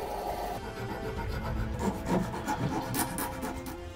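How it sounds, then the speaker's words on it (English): Aluminium sheet being cut down to size for an android sculpture's leg, a steady rasping, rubbing metal-cutting noise running continuously and fairly close, with brief sharper scraping bursts near the end. "So what I'm doing here is cutting out some aluminium sheet and cutting that down to size."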